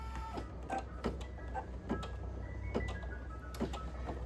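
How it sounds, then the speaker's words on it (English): An embroidery machine stitches a design, with repeating rhythmic clicks and thumps over a low motor hum, steady and moderately quiet, sounding alone. "And that is gonna embroider."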